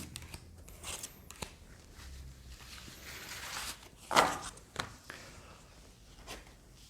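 Tarot cards are drawn and laid out on a table in a quiet room: soft rustles and a few sharp slapping flicks, close but faint.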